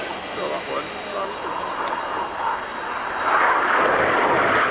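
Red Arrows jets pass at the Kemble Airfield airshow, a steady airborne engine roar that rises toward the end as the aircraft close in, with a commentator talking over it throughout.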